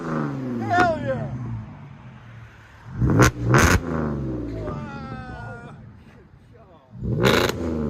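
Cadillac CTS 3.6L V6 with modified exhaust revving outdoors, short loud bursts echoing off a nearby wall, with excited voices talking and exclaiming between the revs.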